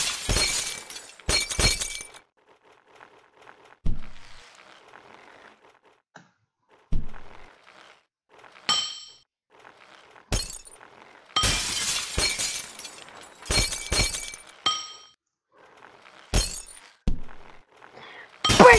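Glass shattering in the Happy Wheels game, a string of loud sharp crashes and tinkling breaks recurring every few seconds with near-silent gaps between them.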